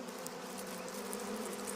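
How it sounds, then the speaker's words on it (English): A honey bee colony buzzes in a dense, continuous hum of many wings, steady and fairly faint, with no voices over it. "She reigns over a few hundred drones and several thousand worker bees."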